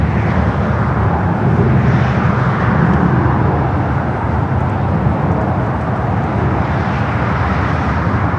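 A Qantas airliner arrives on runway 25 left at LAX with a loud, sustained, broadband jet roar that stays dense and constant from start to finish, close and overpowering.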